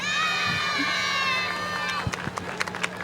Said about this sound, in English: Well, they're out giving us their name. Oh, they're loud.